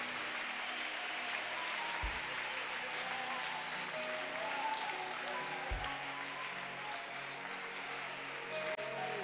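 Congregation clapping at a church service, a steady wash of applause throughout with a faint voice or music underneath and a couple of low thumps.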